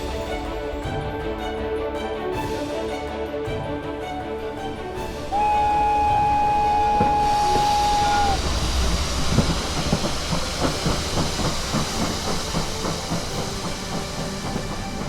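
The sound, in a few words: steam train departing from station, hissing steam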